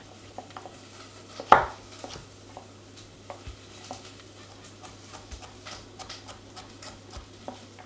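A carrot being chopped on a board for a vegetable, seaweed and pollock broth: a few soft, irregular knife taps, one sharper louder strike, over a low steady hum of a kitchen.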